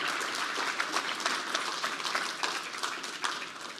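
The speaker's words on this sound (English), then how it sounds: "Let's give a round of applause one more time here." An audience at a tech conference keynote claps in a dense, even burst of applause that carries steadily throughout, with no voices over it.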